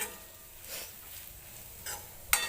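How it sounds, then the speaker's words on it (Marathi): Dry spices roast in oil in a pan with a faint, steady sizzle, broken by a few soft stirring scrapes and a sharp utensil clink near the end. "हे मसाले सुद्धा छान असे आपल्याला तेलामध्ये भाजून घ्यायचे आहेत"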